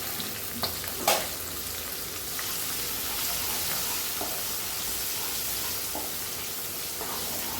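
A small capsicum sizzles in a hot pan of oil while cooking paneer bhindi masala, an even, close frying hiss with a few soft clinks near the start.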